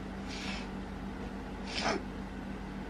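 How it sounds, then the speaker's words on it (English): Two short, breathy sniffles through the nose, the second louder, over a quiet background hum. "I apologise for the sniffling"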